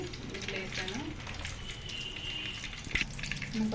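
Eggs fry in hot oil for an egg dum biryani, giving a soft steady sizzle under a person talking, with a brief clatter near the end.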